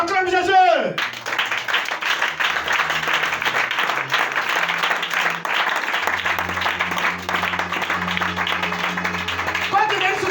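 A church congregation applauds and claps for Jesus in sustained, dense rhythmic clapping that fills the room, with voices and music underneath.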